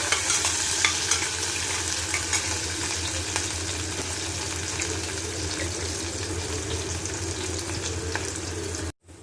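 Steady, close sizzling of onion and garlic frying in a pan, with occasional scrapes of stirring, continuing without pause and ending abruptly.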